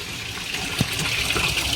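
Water gushes steadily into a washing machine drum, a loud continuous rushing stream heard close up with small gurgles and splashes in the flow.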